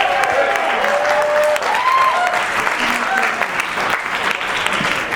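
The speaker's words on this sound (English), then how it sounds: "how about a round of applause for Jimmy and Jenny?" Wedding guests at a reception give the bride's parents a sustained round of applause, dense and even from start to finish, with a few voices calling out over the clapping.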